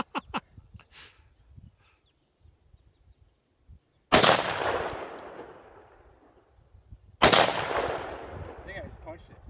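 Two loud, sharp rifle shots from an AR-15 (M4) Spikes Tactical, spaced about three seconds apart, each ringing out with a long decaying echo across open outdoor ground, after a quiet stretch with faint distant sounds.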